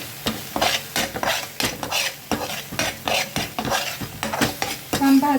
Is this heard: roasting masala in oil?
yes